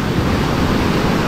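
Strong sea waves roar in a steady, loud, broadband wash of surf close by, with no break and no voices.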